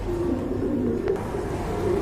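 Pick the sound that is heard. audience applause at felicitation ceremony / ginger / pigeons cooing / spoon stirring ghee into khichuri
pigeons cooing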